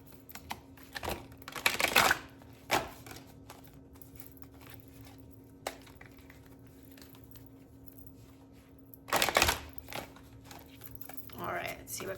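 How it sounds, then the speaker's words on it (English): Two bursts of riffled shuffling of a deck of oracle cards, close and crisp, separated by quieter handling clicks and light taps. "Let's do 3 shuffles."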